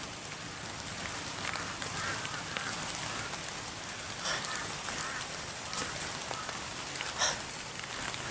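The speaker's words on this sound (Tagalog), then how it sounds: "Ang daming mga ibon. Uwak. Palibot-libot lang sa atin." A large flock of crows calling in scattered, overlapping caws above a constant rushing hiss, a few louder cries standing out briefly, with no talking.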